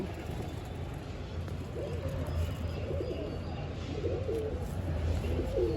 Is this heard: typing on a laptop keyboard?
no